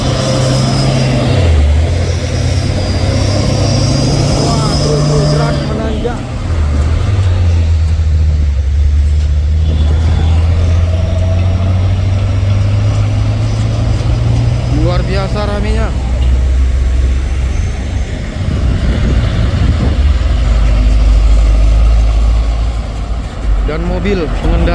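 A loaded trailer truck labors up the steep Bukit Kodok hill; its deep engine drone is steady and loud, pitch shifting as it strains and changes gear, while people talk over it.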